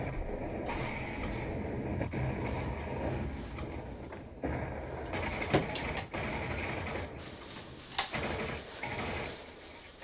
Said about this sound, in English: Oh, that might be my old printer.